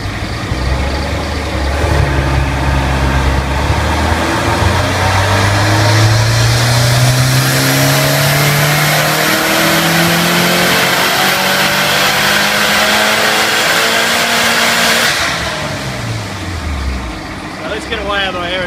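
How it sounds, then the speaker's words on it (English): A car engine on a dyno revs hard and climbs steadily through its range for about fifteen seconds at full load, then lets off sharply, with the drone fading afterward. "I'm going to pull a dyno run and we'll talk about it in a sec."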